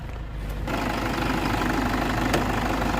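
A Mitsubishi Montero GLX engine idles close by, a steady low rumble with a fine mechanical chatter that swells slightly after a brief quieter start.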